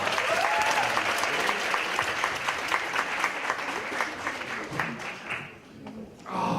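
An audience at a mentoring talk concert applauds loudly and steadily before the programme begins, the clapping thinning and fading toward the end.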